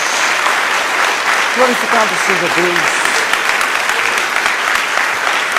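Loud, steady applause from a church congregation clapping for Jesus, dense and continuous throughout, with a voice speaking briefly over it partway through.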